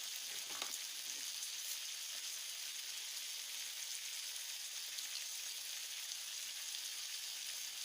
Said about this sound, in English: Stir it up and just let it simmer away.